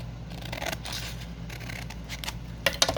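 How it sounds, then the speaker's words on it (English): Scissors cut up the middle of a vintage book page, close and clear, with a steady snipping rustle of paper ending in a couple of sharp blade clicks. "I'm just going to eyeball this and cut up the middle"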